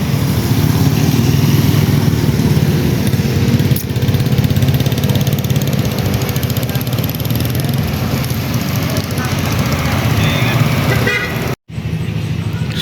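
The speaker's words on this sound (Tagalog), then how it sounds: "big bike ninja" A Kawasaki Ninja big bike sits idling after rain, its engine giving a steady low rumble close by, with a brief cutout near the end.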